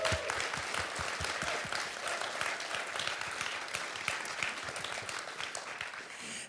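Audience applause at a game developer conference, dense steady clapping from a crowd sustained throughout and fading slightly at the end, with no talk over it.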